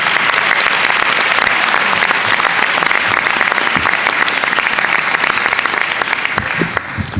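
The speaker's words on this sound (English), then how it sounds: "Just another round of applause for those students who put on a performance in front of the entire school" A school board meeting audience gives loud, dense applause for student performers. The clapping is close and sustained and thins slightly near the end.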